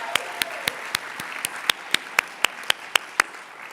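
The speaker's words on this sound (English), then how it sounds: "How about one more round of applause for our Founders Track finalists and judges?" Evenly spaced claps ring out at the Do Good Challenge finals for the Founders Track finalists and judges, about thirteen crisp, distinct hits in a steady rhythm over a quiet room, with no broader crowd wash.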